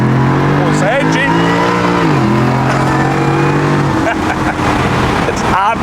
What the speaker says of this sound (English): Every gear change. It's cool. Lots of pops and bangs and overrun downshifts.